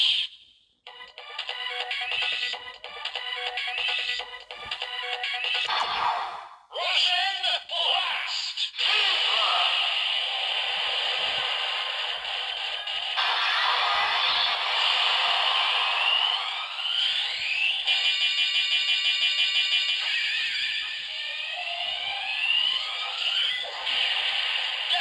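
Progrise Key DX toy playing its electronic final attack effects after a button press, a loud, bright, continuous stream of synthesized tones, buzzes and jingles that shift in pattern across the whole stretch.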